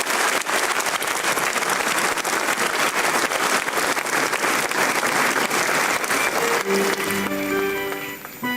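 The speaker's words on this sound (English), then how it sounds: "Shall we do a big round of applause for her?" A large audience at a law school honorific lecture gives a sustained round of applause, steady and loud throughout, fading slightly near the end as music or a voice enters.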